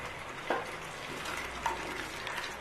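Green chilies drop into masala frying in ghee for daal mash, giving a steady close sizzle with a couple of brief stirring scrapes and clicks.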